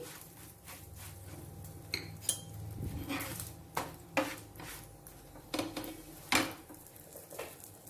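A metal spatula clinks and scrapes against a pan while flipping a chapati, giving a string of sharp, close taps and knocks at irregular intervals with soft frying noise between them.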